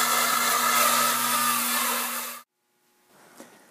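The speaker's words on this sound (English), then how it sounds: "we'll use a grinder to remove that coating and rough up the head of the rivet" An electric grinder roughs up the heads of steel rivets, giving a steady close whine with a strong low hum for about two and a half seconds, then cuts out, leaving near silence and a faint tap.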